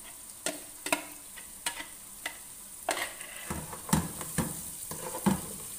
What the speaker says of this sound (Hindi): अब जो मैंने प्याजों का पेस्ट बनाया है वो इसमें शामिल कर रही हूँ।